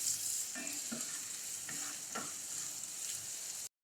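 Medium sliced onions frying in hot oil for masala bhindi, a faint hiss of oil broken by a few soft stirring scrapes, quiet and close.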